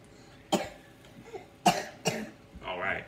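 A young child coughs in a kitchen while cooking French toast and bacon, three sharp separate coughs close to the mic, followed by a short breathy sound, with quiet speech between.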